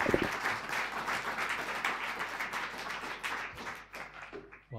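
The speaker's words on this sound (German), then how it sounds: "Sie haben noch nichts gehört von mir, also Applaus im Voraus" An audience applauds to welcome a professor at a lecture, dense clapping from many hands filling the room continuously, fading slightly toward the end.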